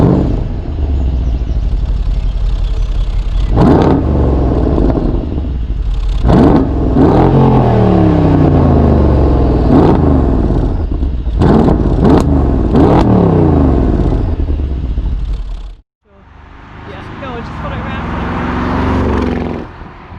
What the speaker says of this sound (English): I'll start with a couple of shots of me revving the engine